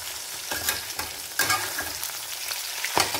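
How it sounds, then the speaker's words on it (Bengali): Batter-coated chicken pieces crackle through a second round of frying in hot oil, a dense, close sizzle punctuated by the knock and scrape of stirring. "সেকেন্ড রাউন্ড এটা ভেজে নিচ্ছি, সেকেন্ড রাউন্ড এগুলো আবার ভেজে নিচ্ছি।"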